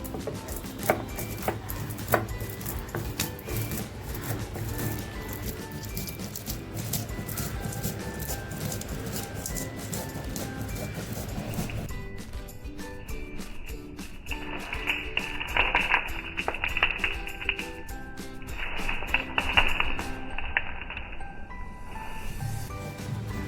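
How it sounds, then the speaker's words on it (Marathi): Roasted whole spices, black pepper among them, ground by hand on a traditional stone slab, with rhythmic tapping and scraping strokes, close and steady, later joined by a brief tonal hum. "आता हे लगेचच मी पाट्यावर वाटून घेते"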